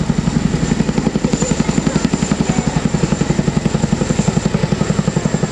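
A tandem-rotor military helicopter hovers close by, its twin rotors beating out a fast, steady thump over a constant turbine whine, loud and unbroken throughout.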